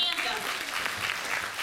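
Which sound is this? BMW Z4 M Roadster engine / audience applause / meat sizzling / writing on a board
audience applause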